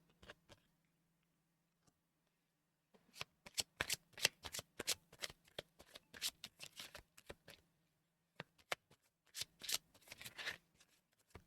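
Tarot cards being shuffled and dealt out, close and quiet, in quick flurries of riffling slaps and snaps separated by short pauses, with a faint low hum beneath.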